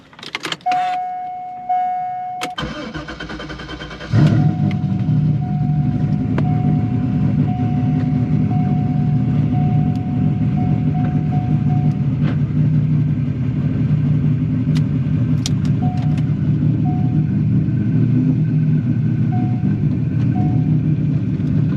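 A World War II Jeep's engine starts after a short mechanical click and cranking, then settles into a steady, loud idle rumble that continues without pause, with faint intermittent tones above it and no talking.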